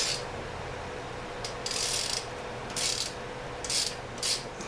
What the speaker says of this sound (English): We'll take off the brake here. There's this thing called the internal brake.